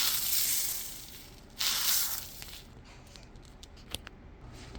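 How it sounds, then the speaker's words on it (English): Dried oregano leaves crushed by hand over wax paper, giving two bursts of dry crackly rustling followed by fainter scattered crinkles and one sharp crisp snap, close and quiet with no talking. "just crunch it up."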